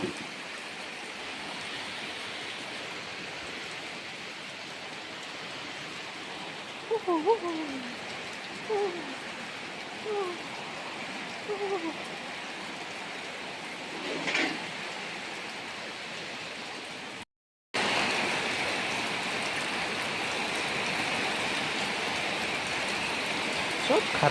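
Steady rain hisses in a continuous wash, with a few faint bird chirps and some muffled voices partway through.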